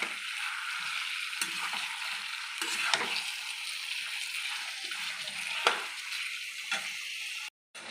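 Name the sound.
chicken meat frying in oil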